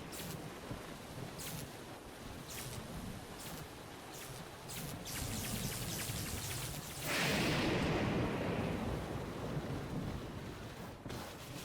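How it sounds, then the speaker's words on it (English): Steady rain falls in The Legend of Zelda: Breath of the Wild, a continuous wash of hiss that swells louder and denser partway through, with a few brief soft thuds and no talking. "in this case it was raining"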